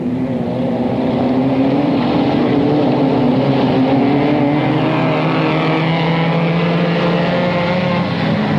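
Off-road race car engines roar loudly and continuously at a 1991 race in Te Atatu, New Zealand, several motors droning and revving together at close range with no voices.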